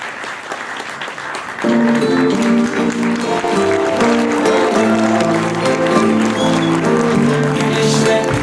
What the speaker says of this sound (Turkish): sevgili Esat İdam ve Mustafa kocaman bir alkışlarla tebrik